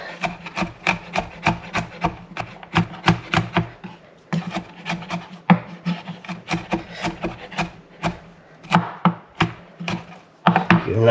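A knife minces smashed garlic cloves on a cutting board, giving rapid, close, crisp chopping taps in steady bursts with brief pauses in between.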